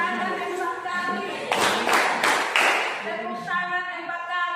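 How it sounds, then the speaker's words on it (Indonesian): Four quick, sharp hand claps in a steady rhythm land in the middle of a classroom's concentration routine, with voices chanting over and around them. "Tepuk tangan 4 kali"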